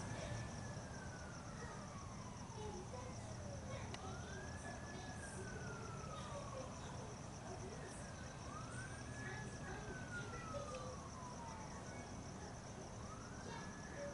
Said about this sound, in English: you can hear very low siren sounds.